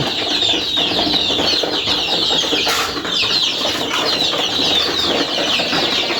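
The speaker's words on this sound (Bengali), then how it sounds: "আমার দেশি মুরগির বাচ্চাগুলো দিন দিন বড় হচ্ছে" Native desi chicken chicks peep and cluck in a dense, continuous chorus close by, with a brief flutter midway and no talking.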